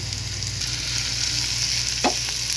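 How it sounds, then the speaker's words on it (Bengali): Chopped potatoes fry in oil for a mola fish chorchori, a dense, even sizzle filling the clip with a couple of short scraping stirs near the end, close and fairly loud. "নাড়াচাড়া করে সুন্দর করে আমি একটু হালকা ব্রাউন কালার করে ভেজে নেব"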